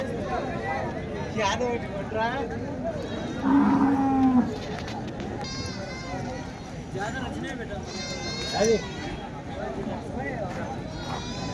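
Bullocks and cattle at a weekly Sunday livestock market in Kosgi moo and low, with one loud nearby call and fainter calls around, while people talk over the bustle.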